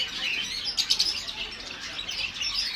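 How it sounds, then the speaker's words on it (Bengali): Many caged birds chirp and tweet at once in a bird shop at Souq Waqif market in Qatar, a dense, steady twittering chorus with brief louder bursts and a few wing flutters, and no talking. "বিভিন্ন জাতের পাখি।"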